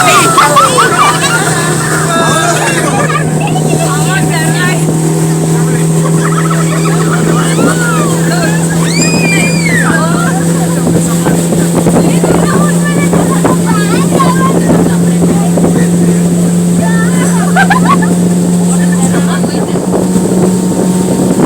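A motorboat speeding across the water off a Kerala beach, a loud close engine drone with wind buffeting the microphone and people chattering in the background.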